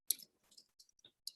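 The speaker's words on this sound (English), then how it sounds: "I'm just typing it out for here." Quiet, scattered clicks from typing on a keyboard, with a few separate keystrokes spaced out over a short moment and near silence between them.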